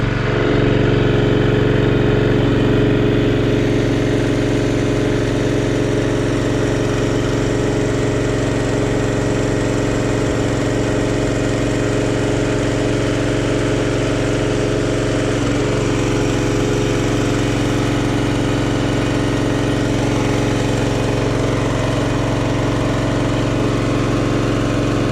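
A new engine fitted to a log splitter runs close and loud, holding an even, unbroken mechanical drone from start to finish with no voices.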